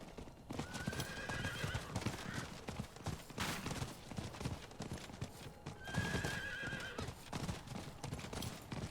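Galloping horse in Diablo 4, with continuous rhythmic hoofbeats and two clear whinnies rising above the busy game sound, the second near the end.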